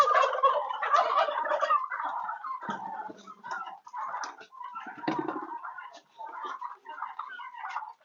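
Muscovy ducks, breeding stock on a duck farm, call and squabble nearby, a continuous harsh, chattering commotion of several birds fighting.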